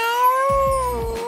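A person's voice imitates a cat's meow in one drawn-out, tonal call, close and clear, with a low rhythmic thumping underneath partway through.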